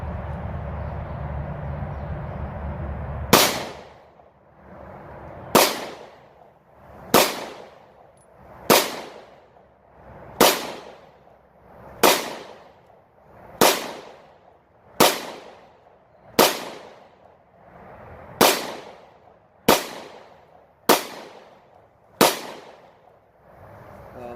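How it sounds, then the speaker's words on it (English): Blazer Brass 124-grain 9mm rounds fired from a Taurus TH9C pistol ring out as about fourteen loud, close shots at a steady pace of roughly one every one to two seconds, with no talking between them. "we will shoot this gun and see how it performs. This is still the Blazer Brass, 124 grain, 9mm."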